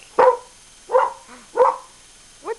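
A dog barks three times at something outside, each bark sharp and close, with a short higher yip at the end and pauses between.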